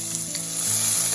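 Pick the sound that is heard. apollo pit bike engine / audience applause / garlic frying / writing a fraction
garlic frying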